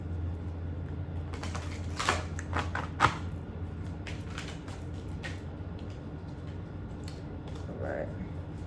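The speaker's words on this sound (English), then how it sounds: "Let's get one more shuffle." A tarot deck is shuffled in a few short bursts of riffling and card slaps, close and fairly soft, with a quiet room hum between them.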